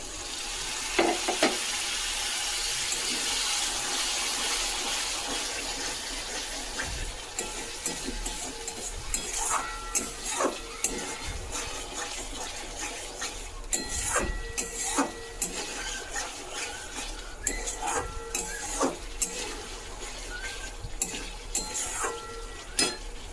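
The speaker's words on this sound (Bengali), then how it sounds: "এবারে মশলাটাকে ভালোভাবে কষিয়ে নিতে হবে যতক্ষণ না পর্যন্ত তেল ছেড়ে যাচ্ছে।" Masala paste is stir-fried in oil with a splash of water for a tengra fish curry, starting with loud, dense sizzling that settles into a quieter hiss under repeated spatula scrapes and clinks against the pan, with no talking.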